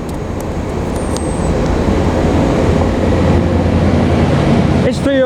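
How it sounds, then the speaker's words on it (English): A train pulls into a station in Northern Ireland, a loud steady rumble of wheels and engine filling the scene throughout, with a brief squeal near the end. "I can hear the train coming in, I think it's the 6:03 service"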